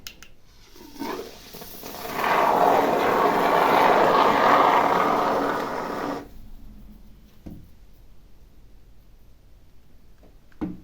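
Expanding foam sprayed from a gun nozzle pushed deep into a gap: a steady, loud hissing spray that swells over about four seconds and then cuts off abruptly, followed by quiet with faint handling clicks.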